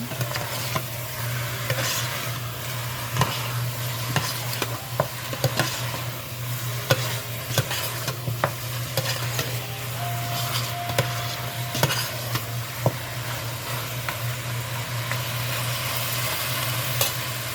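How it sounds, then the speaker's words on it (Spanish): Ingredients for a Cuban ajiaco sauté in a pot with a soft, continuous sizzle. Frequent scraping and clicking stirs sound over a steady low background hum. "Y vamos a seguir sofriéndolo."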